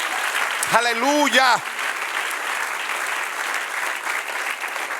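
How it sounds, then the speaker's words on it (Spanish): A church congregation claps throughout a sermon, steady applause filling the room while a voice briefly calls out over it near the start. "eso merece otro aplauso"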